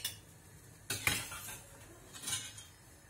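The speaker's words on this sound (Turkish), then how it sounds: "Şimdi kevgir yardımıyla onları tabağıma alıyorum." Metal skimmer scraping and clinking against a pot and plate while lifting boiled cauliflower out, a few soft, quiet clinks spaced apart in a calm kitchen.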